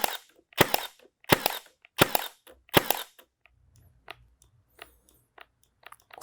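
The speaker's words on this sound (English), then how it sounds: "with a single trigger pull, pick the tool up, put it back down, and it will fire" A Milwaukee M18 FUEL Gen 2 cordless brad nailer fires four sharp, loud snapping shots in a steady rhythm about every 0.7 seconds, followed by softer handling clicks and a low motor whir.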